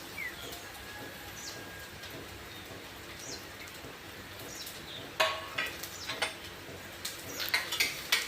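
Chopped onions sizzle in a couple of spoonfuls of hot oil for mutton curry, a soft steady crackle with sharper pops bunching up in the second half, quiet and with no talk.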